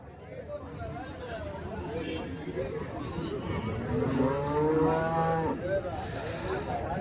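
Cattle moo amid a busy crowd at a livestock market in Santhipuram, Andhra Pradesh, with chatter and bustling noise throughout and one long, prominent low moo near the middle.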